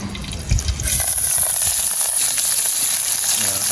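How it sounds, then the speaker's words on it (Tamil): Tomatoes sautéing in a pan for a Jaffna dried-fish curry, making a loud, steady hiss of sizzling that starts after a brief clatter and holds evenly close to the microphone. "தக்காளி பழம் எல்லாம் வந்து நல்ல வடிவாக வதங்குவோம்"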